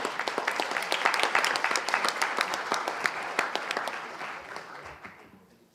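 Lively applause from a high-school debate-competition audience welcoming the next speaker, many quick claps close together, strong at first, then gradually thinning and fading out.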